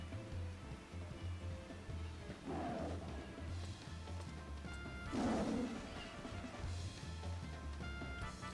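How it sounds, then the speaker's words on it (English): A dog in Final Fantasy XIV lets out two deep, lion-like roars, a few seconds apart, over steady game music and ambience. "The dog sounds like a lion."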